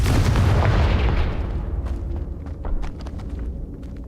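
A Confringo explosion spell cast in Hogwarts Legacy, producing a loud, close, booming blast that fades over a couple of seconds into crackling debris and scattered pops.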